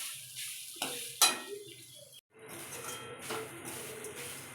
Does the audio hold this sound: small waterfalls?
no